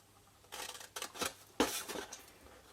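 Scissors cut through card for a box, making a few quiet, close, crisp snipping bursts separated by short pauses.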